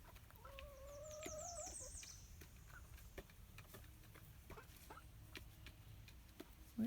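Chickens, big hens kept with little ones, cluck softly and intermittently in a quiet outdoor setting, with a brief higher call near the start and scattered faint pecking sounds.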